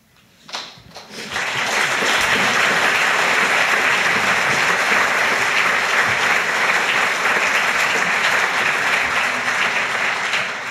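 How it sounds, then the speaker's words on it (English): An audience at a remembrance service breaks into loud, sustained applause after a brief knock, the clapping holding steady and dense until it starts to fade at the end. "You shouldn't have clapped first."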